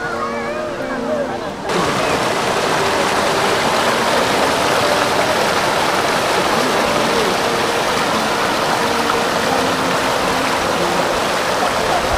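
A river stream rushes steadily and loudly past a bamboo campsite, a dense continuous watery roar that starts abruptly and carries on without pause.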